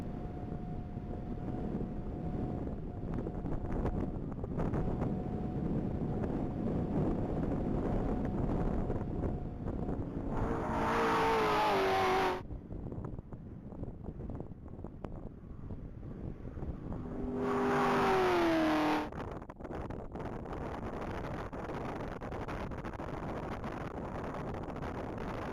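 A 2015 Chevrolet Z28 on a top-speed mile run at a racing event is heard as a steady roar heavily mixed with wind noise, with two surging engine passes rising above it toward the middle and later in the run.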